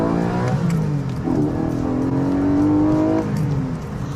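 Porsche 718 Boxster GTS 4.0 engine on an open road, revving hard with a rising pitch that climbs steadily through the gears before easing off near the end, loud and close with no talking.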